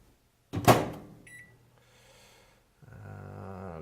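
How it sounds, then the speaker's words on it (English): A microwave oven softens sliced sweet potatoes: a sharp clunk at the start, then a low, steady running hum that briefly dips before resuming with a fuller tone. "I'm just going to microwave this up just to soften it."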